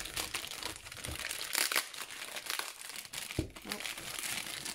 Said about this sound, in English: tore the bag open